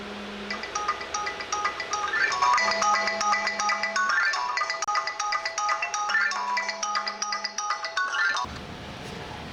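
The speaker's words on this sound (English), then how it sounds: "until the phone actually finally starts to ring" Smartphone ringtone playing a repeating electronic melody in three bursts, fairly clear and close, ending abruptly after about eight seconds.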